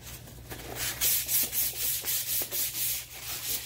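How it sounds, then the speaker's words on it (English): Sandpaper rubbed by hand over a metal truck shock part from a 2018 Ford F-150 Bilstein 5100 install, about a dozen steady back-and-forth scraping strokes, close and fairly loud, over a low background hum. "I might need a rougher grit sandpaper"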